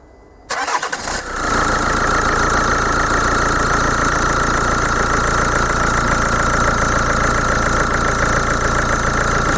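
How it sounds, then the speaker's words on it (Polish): A diesel engine with a Bosch CP common-rail pump that has a valve and pressure fault is restarted after stalling; it cranks briefly, then catches and settles into a loud, steady, rattling idle close to the microphone, with no talk over it. "Silnik zgasł. I teraz pasuje go odpalić ponownie."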